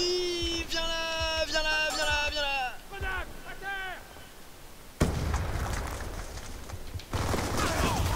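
Call of Duty Black Ops II gunfire: a player shouts in rising tones, then dense, loud bursts of automatic fire and explosive blasts fill the last few seconds.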